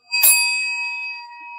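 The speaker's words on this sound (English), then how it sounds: "I know, somewhere I've got a bell. Oh, here it is." A small hand bell struck once, a bright ding that rings on with a clear, slowly fading metallic tone, close and alone.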